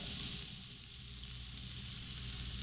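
Garlic sizzling in a hot pan, a steady, even hiss of frying with a faint low hum underneath, continuous and close.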